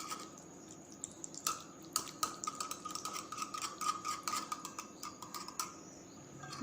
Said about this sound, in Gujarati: હવે આપણે દહીંને સરસ રીતે ફેટી લઈશું।